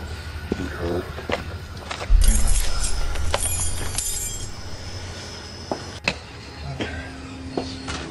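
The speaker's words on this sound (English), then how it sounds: "The little game is, I always toss the keys at the door." Keys tossed against a door land with a sharp metallic clash and jangle near the middle, followed by a few quieter clinks and rattles, close by in an indoor room.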